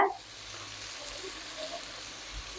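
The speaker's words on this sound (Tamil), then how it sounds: "இப்போ வெங்காயம் போட்டு நல்லா வதக்கிக்கிங்க" Onions sautéing in a pan give a soft, even sizzling hiss that runs steadily and fairly quietly, with no voices.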